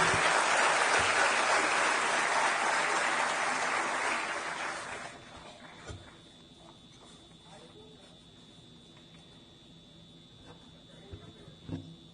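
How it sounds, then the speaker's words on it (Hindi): Audience applause at a ceremony attended by Uttar Pradesh police personnel, dense and steady for about five seconds before fading into a quiet room with scattered small sounds. "जोरदार तालियों के प्रणाम निवेदित करते हुए"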